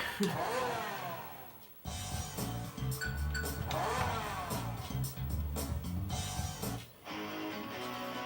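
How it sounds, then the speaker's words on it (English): Engine of a Ferrari in a racing simulator game on the Sega Dreamcast, with repeated revving sweeps rising in pitch, dropping at gear changes and climbing again, loud and continuous with a brief pause near the start. "It's a Ferrari simulator."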